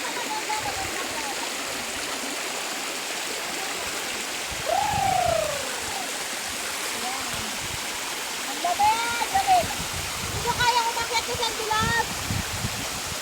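A mountain waterfall pours cold water over rocks in a steady, broadband rush that runs the whole time, with voices talking briefly over it.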